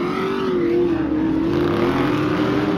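A Formula 4x4 off-road race truck drives through a small chicane and down off a drop-off at a short-course stadium track, its engine holding a loud, steady, droning roar with a slight shift in pitch throughout.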